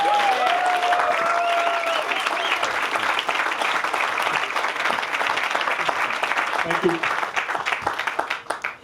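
An audience at a Boys & Girls Club capital campaign event gives a big round of applause for a speaker, dense sustained clapping filling the whole stretch, loud and close, with a brief voice speaking near the end.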